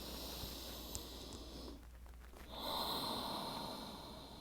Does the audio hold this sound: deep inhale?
yes